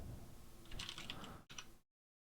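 A quick flurry of keystrokes clatters on a computer keyboard, a faint burst of soft clicks lasting barely a second before the sound cuts to silence.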